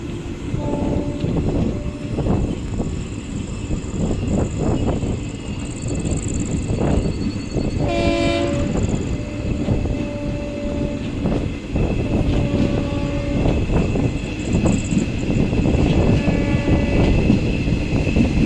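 The Jabalpur Chanda Fort Superfast Express runs at night near Gondia Junction, its loud steady wheel rumble filling the whole stretch, with a horn blaring briefly midway and fainter horn tones later.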